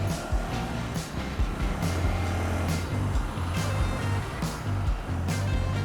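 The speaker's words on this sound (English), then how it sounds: "Traffic because of the trucks" Road traffic in a jam on a warm day during a KTM 390 Adventure ride from Bengaluru to Yelagiri, with trucks and buses idling and creeping nearby, a steady low engine rumble and passing vehicle noise filling the air.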